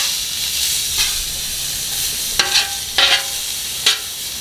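Food frying in bacon grease on a flat-top griddle: a constant close sizzle, with several crisp scraping bursts as pieces are rubbed across the hot surface, and no talking.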